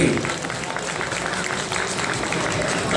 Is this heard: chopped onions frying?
no